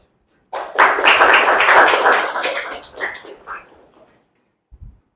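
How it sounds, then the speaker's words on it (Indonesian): Classroom applause during a microteaching practice session: a burst of hand clapping from a group swells quickly, holds steady for about three seconds, then thins out and fades, with a few faint knocks afterward. "Berikan aplaus dulu."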